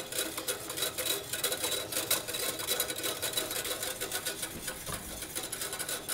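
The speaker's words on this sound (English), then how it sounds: "we're going to add our cornstarch. Get it all in there and start whisking together" A whisk beats cornstarch into a pineapple glaze in a pan, a fast steady scraping and swishing that runs continuously and close, with no talking.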